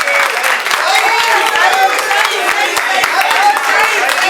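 A crowd at a pool table event in a night club breaks into loud, continuous applause, with dense clapping sustained throughout and voices mixed into the noise.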